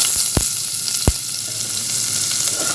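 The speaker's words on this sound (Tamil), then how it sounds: "வெங்காயம் போட்டு நல்லா வதக்கிக்கலாம்." Onions frying in hot coconut oil with cinnamon, cloves and fennel seeds for a chickpea biryani, a steady close sizzle with two brief low knocks near the start and no talking.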